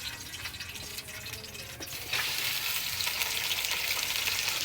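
Boneless chicken sizzles and fries in a pan for white karahi, a dense continuous crackle that grows louder about halfway through, close and with no talking.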